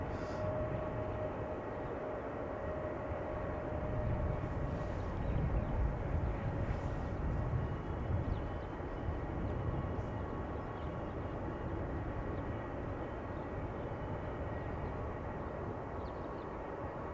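Airliner rolling off the runway after landing at Amsterdam Schiphol Airport, heard as a steady, distant low engine rumble and roar lasting the whole time with no talking.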